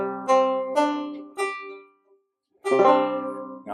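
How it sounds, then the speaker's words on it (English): Banjo in an altered tuning, strummed in a few bright, ringing chords close by, then a short pause before a fuller strum rings out. "if I just start playing the banjo, it just sounds different."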